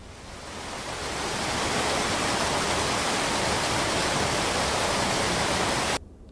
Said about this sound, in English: this is sound from a waterfall,